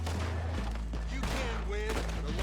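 Cowboy revolver gunshots in the Red Dead Online video game, a rapid volley of sharp cracks with echoing tails over a steady low game rumble and background music.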